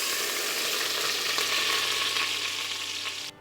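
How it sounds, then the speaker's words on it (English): Broth hits hot bacon drippings in an Instant Pot and is stirred, producing a loud, steady sizzle with faint scraping. The sizzle cuts off abruptly near the end. "I'm going to add a little bit of broth just to stir up the brown bits"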